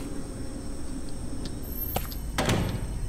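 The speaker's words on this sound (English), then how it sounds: "Yeah, close the door, why don't you" In the Japanese horror game Stigmatized Property, a door slides shut with a couple of quick knocks and a soft thunk over a constant background hum.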